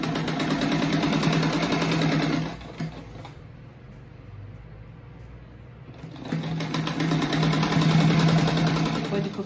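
A sewing machine stitches a ruffled fish-shaped rug in two rapid, buzzing runs separated by a few seconds of quiet, close and loud, with a voice speaking briefly in the pause.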